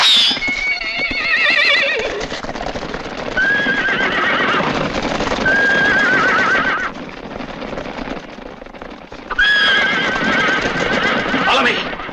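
Horses whinny loudly several times amid a busy, noisy scene with hooves and commotion, voices mixed in underneath.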